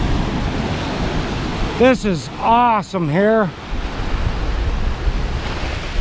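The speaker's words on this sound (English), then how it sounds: "Look at the size of the waves coming in" Ocean waves surge and crash into a rocky cove at Wild Cove near Louisbourg, a steady broad wash of surf with wind noise, while someone speaks briefly partway through.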